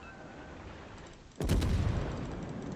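Heavy naval gunfire in World of Warships from a Saint Louis cruiser engagement, a sudden loud booming salvo with a long rumbling tail rising out of steady ocean and engine ambience.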